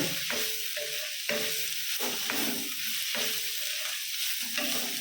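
Pieces for paneer fried rice being stir-fried, with a bright continuous sizzle and repeated scraping strokes of a spatula against the pan in an uneven rhythm.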